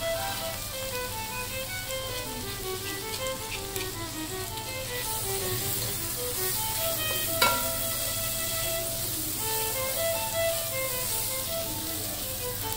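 Crushed garlic goes into lightly browned onions frying in a pan for a chicken curry, making a steady, moderate sizzle throughout with a brief clatter partway through.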